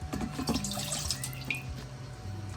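Leftover water from a De'Longhi Magnifica Evo coffee machine is dumped into a sink, giving a short, close splash and trickle of dripping water with no talking.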